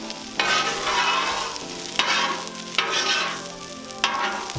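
Store-bought precooked breakfast sausage warming on a Cuisinart 360 griddle outdoors, a loud continuous sizzle punctuated by several scraping spatula strokes at regular intervals.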